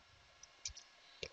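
A command is typed on a computer keyboard in a quiet room as a few soft, sparse key clicks.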